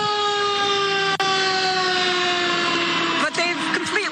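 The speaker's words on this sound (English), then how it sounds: "there are a couple of engines right now in the parking lot, and here comes another" Fire engines pulling into a parking lot to take on water during the Los Angeles fires give off a steady, loud tonal whine with layered harmonics, holding unbroken for several seconds before some rustling noise near the end.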